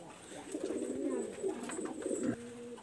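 Pigeon cooing up close, a breeding pair of fancy tournament pigeons giving a rolling, throaty coo that swells and repeats across a few seconds, clear and alone with no talk.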